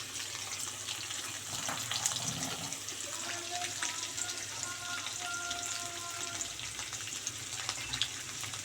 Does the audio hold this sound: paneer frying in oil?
yes